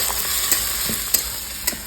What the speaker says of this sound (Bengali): পেঁয়াজ আর তেলে আর ঘিতে পেঁয়াজটা যা ভাজা ভাজা হবে